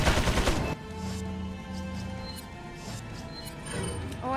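Gunfire in Resident Evil 4, a loud burst of rapid shots at the start followed by quieter scattered game sounds and a few faint metallic clicks.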